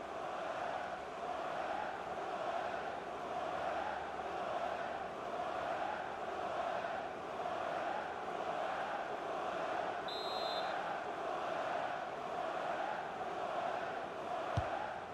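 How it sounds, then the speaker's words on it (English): Distant stadium crowd at an MLS soccer match between San Jose Earthquakes and Seattle Sounders rolls in a steady, broad roar as a Mexican wave sweeps the stands, sustained and even with no break. "The crowd having a good time."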